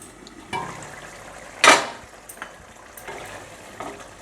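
A lid going onto a pan of tengra fish curry simmering with chillies, with one sharp metallic clank amid soft bubbling and a few lighter knocks of cookware.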